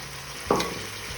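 Vegetables fry in a pan for veg biryani as peas go in, one sudden burst of sizzle and a stirring scrape over a quiet steady hiss, brief and close.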